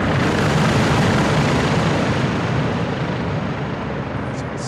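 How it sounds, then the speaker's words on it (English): Helicopter approaching in Call of Duty Modern Warfare 2, a loud, dense roar of rotor and engine noise filling the scene at steady volume throughout. "Got a heli incoming."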